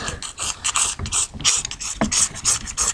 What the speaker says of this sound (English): Just scrape it off on there.